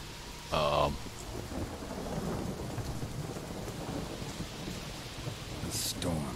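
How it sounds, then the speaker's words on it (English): Thunderstorm with steady rain in the video game The Witcher 3, a continuous wash of rainfall with a sharp thunder crack near the start and another brief burst at the end. "The storm, damn it."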